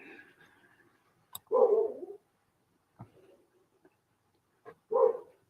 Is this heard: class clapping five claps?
no